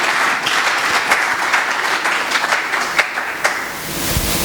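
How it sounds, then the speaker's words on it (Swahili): Congregation clapping and applauding during a church worship gathering at a Bible conference, a steady dense wash of many hands with a few sharper claps, sustained throughout and fading slightly near the end. "Yesu tunaweza piga makofi juu ya Yesu Kristo."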